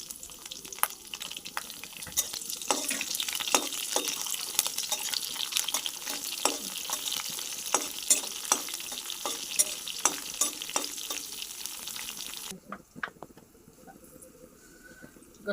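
Green chillies frying in hot oil for mango pulihora, a steady close sizzle broken by repeated scraping stir strokes, ending with a quieter tail after the stirring stops.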